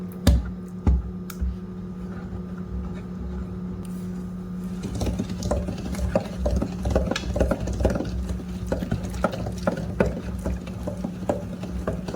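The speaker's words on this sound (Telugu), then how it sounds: "ఇప్పుడు పప్పు కొద్దిగా వేపుకోవాలి" Lentils for an amaranth-leaf dal frying in a pan with salt as they are stirred: a steady low hum with quiet clicks, then from midway a busy run of soft scraping and tapping strokes, close and fairly even.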